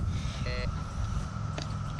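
Two short high-pitched electronic beeps from a metal detector in a field test, one near the start and a fainter one later, over a steady low outdoor rumble.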